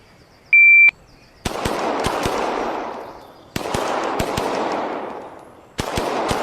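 Rapid automatic gunfire bursts in the VR shooting game ACE, three long strings of sharp loud shots separated by pauses, preceded by a short electronic beep; no speech.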